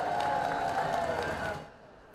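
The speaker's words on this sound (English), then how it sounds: "arrived to cheers from the crowd" An outdoor crowd cheers as the groom, the Duke of Westminster, arrives at his wedding: a dense, loud wash of cheering and clapping that drops away sharply near the end.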